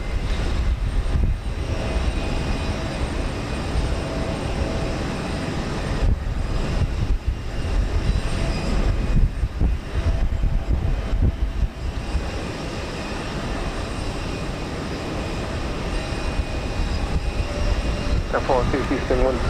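An airliner takes off at Houston Intercontinental, its engines a broad, steady roar sustained throughout at moderate distance, with air traffic control radio chatter heard over it.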